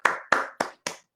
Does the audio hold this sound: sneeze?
no